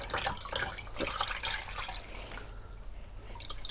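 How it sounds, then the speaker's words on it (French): Clean warm water runs from a tap over a motorcycle part being rinsed during routine maintenance, a steady close splashing and trickling stream with no talk. "vous prenez de l'eau claire, chaude, de préférence. Et puis, bah, vous le rincez, tout simplement."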